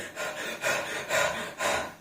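A human voice imitates a hot dog panting: four rhythmic, breathy rasping huffs in quick succession, close and alone.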